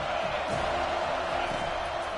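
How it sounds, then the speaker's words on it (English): A stadium crowd roars steadily in an American football video game, a dense, continuous wash of cheering and noise that stays level and moderately loud throughout, with no breaks. "Man, this crowd really affecting the football game."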